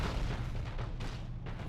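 Warship guns fire in the space battle game Battlefleet Gothic: Armada, with Eldar ships engaged. A dense, continuous barrage of deep booms and rumbling blasts rolls on steadily with no pauses, and no voices are heard.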